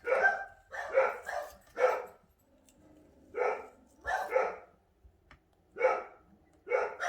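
Several dogs bark at a car at the front door of a house in repeated bursts of two or three, fairly distant and moderately loud, with short pauses between the volleys.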